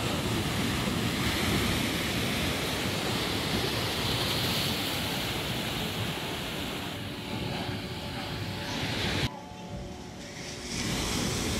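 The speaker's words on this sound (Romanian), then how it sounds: "Asta mie și le place să se uite la ocean, la valuri." Ocean surf at Taghazout, Morocco rolls in as a loud, continuous wash of breaking waves with wind buffeting the microphone, briefly dipping near the end; no voices.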